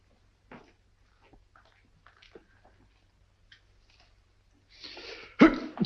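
After a few faint clicks and rustles, a single sharp sneeze bursts out near the end, preceded by a brief inhaling hiss.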